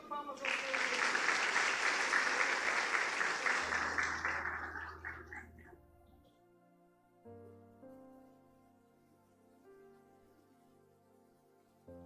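A church congregation clapping in worship, loud steady applause for several seconds that tapers off into soft sustained keyboard chords.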